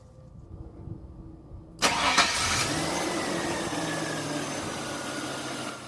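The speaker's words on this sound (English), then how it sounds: "and then we're gonna go ahead and turn on the vehicle." A GMC Sierra or Chevy Silverado pickup starts up after its fuel filter has been replaced. It is quiet at first, then a short starter crank catches into a loud, steady engine idle that runs to the end.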